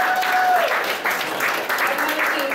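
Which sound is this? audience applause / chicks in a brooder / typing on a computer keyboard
audience applause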